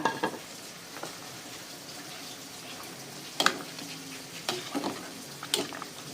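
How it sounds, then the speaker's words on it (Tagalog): Shrimp goes into a pot of vegetables for a banana-blossom dinengdeng, giving a soft, steady simmering sizzle with a few sharp stirring knocks and clinks scattered through. "Ilalagay natin yung ating hipon."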